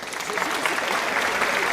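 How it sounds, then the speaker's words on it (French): A studio audience on a French TV debate show claps for a woman in a dense, steady burst, with a voice briefly cutting through the clapping. "applaudissez pour elle"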